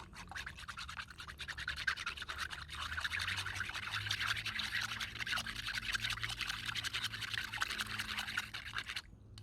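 Mulberry bark fiber for Japanese washi paper is swished and stirred by hand in water, a continuous close, soft sloshing and trickling with rapid splashy texture throughout.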